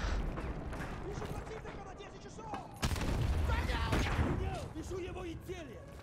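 Grenade explosion and gunfire in Modern Warfare 2 Remastered, a firefight near a Burger Town: sporadic gunshots, then a heavy boom that leaves a lingering roar, with voices over the combat.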